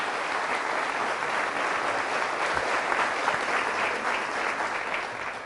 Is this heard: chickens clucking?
no